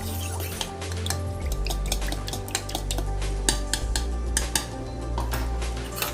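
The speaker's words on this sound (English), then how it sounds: "And whisk it properly." Pancake batter whisked with milk in a bowl, a steady rapid clatter of the whisk against the dish with sharp clinks over a low continuous hum, close and without talk.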